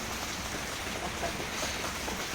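Rain falls steadily during an outdoor picnic, where a cloth has been stretched overhead against the downpour. It makes a soft, even hiss with no breaks and no speech over it.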